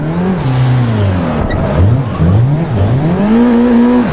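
A Nissan 180SX drifts at Summit Speedway in a racing video game, its engine loud and close, revving and swooping in pitch as it slides, with brief tire squeal and no talking.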